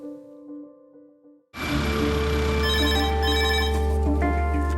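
Red HEMS emergency telephone in a hospital A&E department, ringing loud and close with a continuous electronic trill after a brief quieter lead-in, no voices over it.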